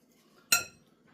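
A utensil clinks once against a bowl while garlic and onion powder are mixed into a potato mixture, a single sharp metallic knock in an otherwise quiet kitchen.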